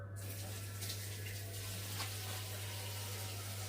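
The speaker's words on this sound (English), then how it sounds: "Let the water run" Tap water runs in a kitchen sink, a faint steady splashing stream under a constant low electrical hum, continuous from start to finish.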